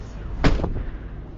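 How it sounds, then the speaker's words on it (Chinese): A camper van door slams shut once, a single sharp, loud thump against a steady low background hum. "其实门是没有这声音的，关门吓我一跳刚才。"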